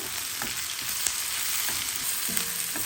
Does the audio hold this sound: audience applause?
no